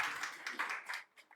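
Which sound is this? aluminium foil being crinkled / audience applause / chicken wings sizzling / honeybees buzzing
audience applause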